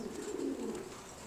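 Pigeons on a pigeon farm give soft, low cooing in a continuous rolling murmur, close by with no speech.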